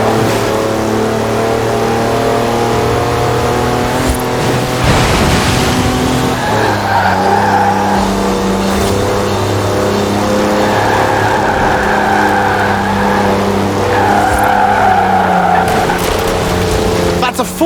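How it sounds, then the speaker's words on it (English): A 4-wheel drive car on knobbly mud tyres slides completely sideways in Forza Horizon 4, its engine droning and revving in steady tones while a harsh burst of skidding tyre noise swells midway through. "That's a 4-wheel drive car on mud tyres completely sideways."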